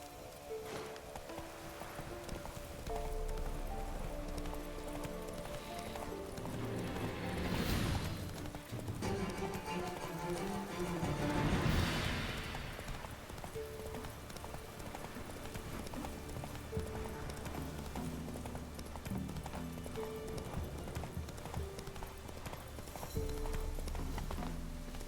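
Hooves clip-clop continuously as a horse gallops in The Witcher 3, a steady rhythmic pounding heard over game music with a few brief swells of wind or rushing.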